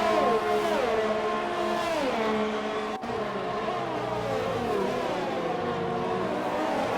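Several Formula-style race cars at full racing speed in an Xbox Spanish Grand Prix sim race, engines wailing with rising and falling pitch through gear shifts, steady and loud with no talk.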